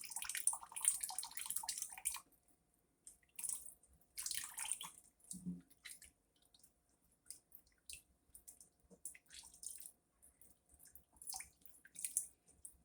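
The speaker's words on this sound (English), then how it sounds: "Keep that water running over it." Tap water running over pork chitterlings being cleaned at a sink, a faint splashing, trickling stream that comes and goes in bursts over several seconds, close but quiet, without talking.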